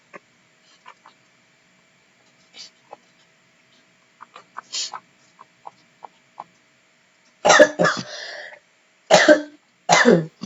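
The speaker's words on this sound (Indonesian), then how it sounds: "Maaf, batuk." A person coughs several times, first faint scattered throat sounds, then a few loud, close, harsh coughs in quick bursts toward the end.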